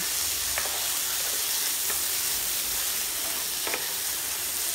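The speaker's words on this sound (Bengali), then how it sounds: "সবগুলো উপকরণ ভালোভাবে নেড়ে মিশিয়ে নিচ্ছি" Broccoli, chopped tomato and other ingredients sizzle steadily in a hot pan as they are stirred together, with a constant frying hiss and a few soft scrapes of the spoon.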